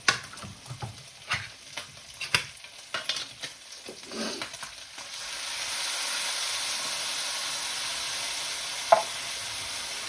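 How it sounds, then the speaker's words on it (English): Chopped tomatoes tipped into a pan of browned sausage and bacon, bringing scraping stirs and clatters that give way to a steady, close hiss of sizzling frying, with one sharp tap near the end. "so now we're going to add in the chopped tomatoes."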